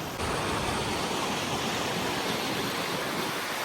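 Devpahri waterfall in Korba, a steady loud broadband roar of falling water that stays constant and close throughout, with no voices.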